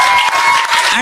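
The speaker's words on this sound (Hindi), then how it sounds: "सार्थक के लिए ताली बजाएंगे यार" Audience applause for Sarthak at a comedy show, a brief dense wash of clapping from a crowd, loud and close, lasting about a second.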